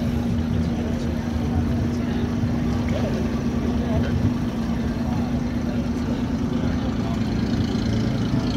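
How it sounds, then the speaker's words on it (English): An Elio three-wheeled car fitted with a Geo Metro exhaust runs at a steady drone with a constant low hum, loud and close, holding an even level with no breaks. "Now, mind you, it's a Geo Metro exhaust."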